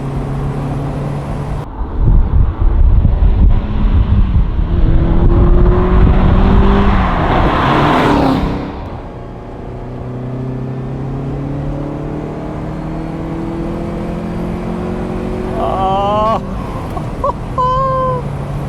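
A Ferrari 308 GTS engine drones through the drive on an open road, loud and steady, with a few rising revs near the end.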